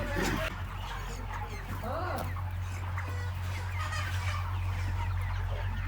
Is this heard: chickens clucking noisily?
yes